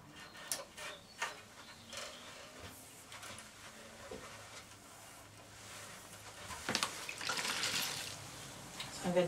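Water is splashed and dripped onto a strand of weaving cane to dampen it, with soft, close trickling and wet handling sounds that swell briefly near the end against a quiet workshop background.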